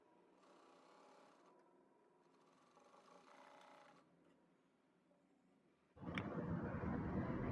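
Domestic sewing machine stitching a newborn baby dress, a soft steady whirring run that pauses and restarts, followed by a louder, busier burst of machine noise near the end.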